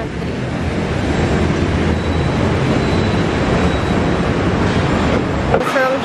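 A train at a station in Bangkok, with a loud, continuous rumble of the moving cars and a brief squeal near the end.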